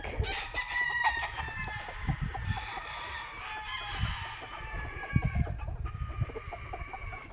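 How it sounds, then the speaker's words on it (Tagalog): On a farm, chickens cluck steadily while a rooster crows repeatedly, the calls layered and fairly close over a constant outdoor background. "Tapos mga chickens. Mga manok."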